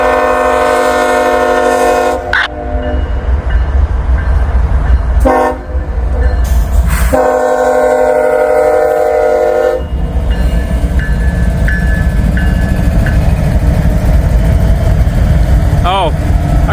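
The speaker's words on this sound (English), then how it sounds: "All right, here comes this train." A Norfolk Southern freight train rolls past in cold weather with a loud, continuous rumble of wagons, punctuated by a strong chorded horn blasting in several long bursts that cut in and out.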